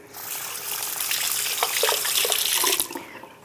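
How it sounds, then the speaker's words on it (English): Hands rinsed under a running kitchen tap while making raspberry tiramisu, a steady broadband rush of water that swells and splashes as the hands move through the stream, close and continuous for a few seconds before cutting off. "Just gonna rinse my hands again."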